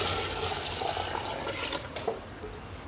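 Water pours steadily into a yogurt and gram flour kadhi mixture for Punjabi kadhi pakora, a continuous close splashing wash with small bubbling spurts near the end.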